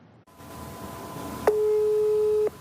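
Telephone busy signal heard while calling a mobile number in Iran: a steady repeating tone that starts midway, with a click at its onset, and cuts off after about a second, over faint line hiss.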